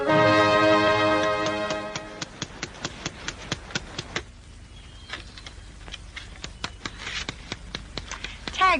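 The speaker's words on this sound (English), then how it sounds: "you're tacking that sign upside down" A hammer tacks a sign onto a post in a classic western TV scene, giving a series of sharp, evenly spaced taps after a loud opening chord of music, with faint background sound between strikes.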